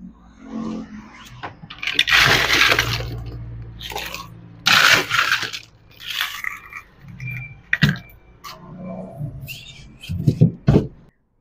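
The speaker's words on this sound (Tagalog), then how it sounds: "Mag-add tayo ng ice." Ice tumbles into a glass while a Spanish latte is made with espresso syrup and condensed milk, giving a few loud, crunchy clattering bursts spread across the moment with quieter knocks between.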